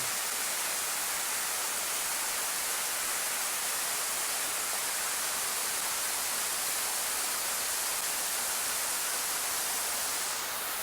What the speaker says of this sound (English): Yeah, it's a pretty big waterfall.